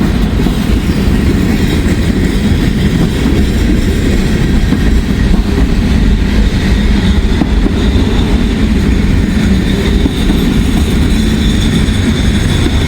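A long intermodal freight train rolls steadily past on the track. Its wheels rumble and clack loudly and close for the whole stretch, with a faint squeal now and then and no talk.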